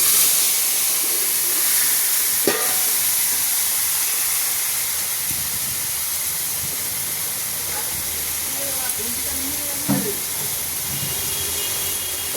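An onion and green chilli mixture is poured into hot oil whose spices have slightly burned, giving a strong steady hiss of sizzling with a few sharp knocks, heard fairly close throughout.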